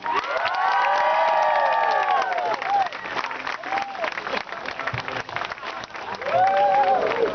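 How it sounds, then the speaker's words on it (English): An audience at a stand-up comedy show in Samoa breaks into applause and cheers, a dense crowd wash with whoops and children's shouts rising over it, swelling again near the end. "Please, a round of applause for Talioa."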